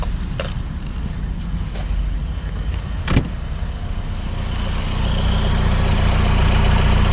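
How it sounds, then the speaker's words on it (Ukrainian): A car engine idles while warming up, a steady low rumble getting slightly louder toward the end, with a few faint clicks along the way. "Трошки мотор прогрівається декілька хвилин"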